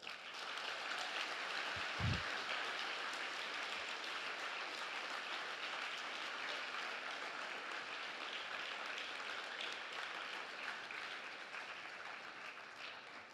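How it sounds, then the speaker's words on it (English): An audience at a world congress session on young readers bursts into sustained applause, a dense, even wash of clapping that holds steady for over ten seconds before easing slightly. "Please welcome them with another big round of applause"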